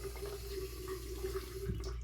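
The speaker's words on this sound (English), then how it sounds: "I'm gonna add a little bit more water" Water runs steadily from a tap while it wets shaving soap, a soft continuous splash close by over a low hum, with a brief bump near the end.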